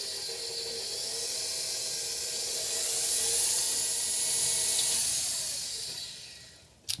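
A stand mixer with a paddle beats gluten-free lemon blueberry loaf batter, giving a steady, airy motor whir and hiss that swells slightly and then tapers off, ending in a brief clatter.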